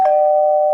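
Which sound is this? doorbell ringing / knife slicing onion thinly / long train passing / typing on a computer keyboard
doorbell ringing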